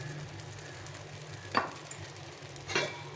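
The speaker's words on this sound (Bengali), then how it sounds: "আরও একটা ভেজে দেখাচ্ছি কি সুন্দর স্মুথভাবে ভাজা হয়ে যাচ্ছে।" Rice and moong dal chilla batter frying in a pan with almost no oil, a low steady sizzle throughout with two brief scraping or spreading sounds from a utensil; no one speaks.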